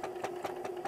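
Sewing machine stitching a messenger bag, a quick steady run of close mechanical thumps, about five even beats in under a second over a constant motor hum.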